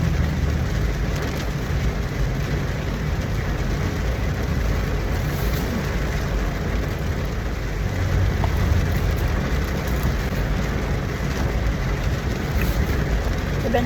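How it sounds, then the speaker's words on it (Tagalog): Heavy rain pours steadily as a dense, broadband hiss and rumble that lasts throughout, with no break. "Grabe lakas ng ulan."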